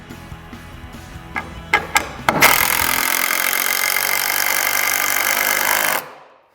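Power drill driving screws into a wooden miter saw stand: a few short clicks and ticks, then one loud sustained whirring drive lasting several seconds before stopping abruptly, close up.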